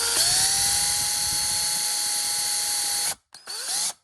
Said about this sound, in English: Now, I got the drill. The hole started there.